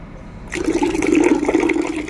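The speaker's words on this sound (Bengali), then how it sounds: "সম্পূর্ণ জলটা এই খোলপচা জলের মধ্যে মিশিয়ে দিলাম" Cloudy water mixed with DAP fertilizer poured into fermented oil-cake water, a sudden close gush of liquid splashing steadily into the mixture.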